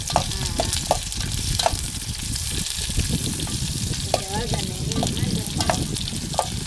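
Green chillies frying in hot oil for a sambhar, a steady close sizzle and crackle with a few sharp utensil clinks scattered throughout.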